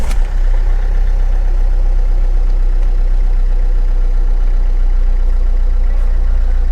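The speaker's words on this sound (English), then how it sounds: "the car has started in one go, and now I will allow the car to idle for 5 minutes." A Ford Fiesta Classic engine turns over and settles into a steady, loud, low idle close by, humming evenly without any voices.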